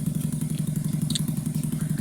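A restored motorcycle idles close by with a rapid, even, steady thumping exhaust pulse and a faint mechanical clatter. No one talks.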